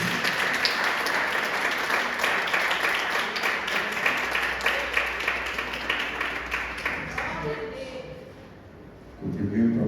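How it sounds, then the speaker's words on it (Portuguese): A church congregation applauds, a dense, loud burst of clapping that carries on steadily and then fades toward the end, with voices mixed into the crowd noise. "Uma linda salva de palmas para a glória de Deus."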